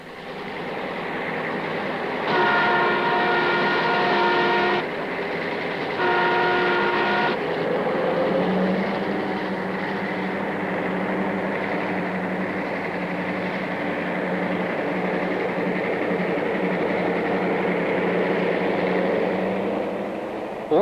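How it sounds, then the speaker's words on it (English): A LAMCO iron ore train passes through a siding at Nimba in Liberia, a steady loud rumble of rolling wagons lasting throughout, with two bursts of sustained horn-like tones near the start. "Ore train number 13 passes through siding after siding, its progress carefully watched on the central control panel at Nimba."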